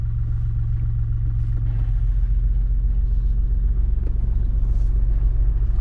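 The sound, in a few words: car moving off as the clutch is released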